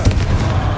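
A Confringo fire spell detonates with a short, loud, booming blast during Hogwarts Legacy combat.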